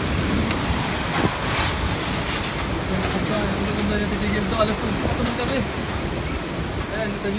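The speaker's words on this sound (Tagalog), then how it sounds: "Kalakas ang hangin." Strong typhoon wind roars continuously, buffeting loudly like a gale, with a rushing surf-like texture throughout.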